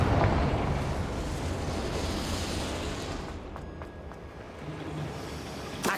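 A Confringo blasting spell explodes in Hogwarts Legacy, a loud, dense roar of blast noise that fills the moment and slowly thins out.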